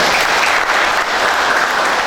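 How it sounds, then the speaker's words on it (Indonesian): Steady applause from a church congregation during a Sunday worship service, dense and continuous clapping filling the room at a loud level with no talk over it. "mari kita sambut dengan tepuk tangan."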